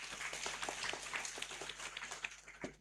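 Scattered applause from an audience at an official opening ceremony, a thin patter of individual claps that is fairly quiet and trails off unevenly toward the end.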